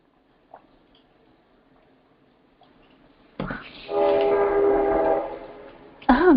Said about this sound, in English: There's the local train.